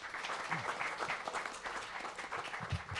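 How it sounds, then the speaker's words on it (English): An audience applauds panelists at an education conference session, a dense patter of clapping heard at moderate distance, with faint voices mixed in. "let's give our panelists a round of applause"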